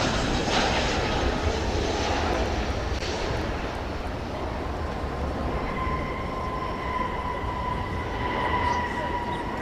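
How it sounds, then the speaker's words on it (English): An American Airlines Boeing 737-800 from Kansas City arrives at Dallas Fort Worth Airport at night, a moderate jet roar that eases down and then carries a rising whine, with faint background voices at times. "We've got a flight coming in from Kansas City here on the west side."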